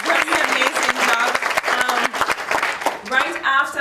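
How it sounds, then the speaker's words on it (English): Audience at a 2016 cardiovascular symposium breaks into steady, dense applause, a loud sustained wash of clapping from a full room, with a voice speaking over it. "a round of applause to you all"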